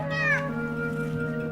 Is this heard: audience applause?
no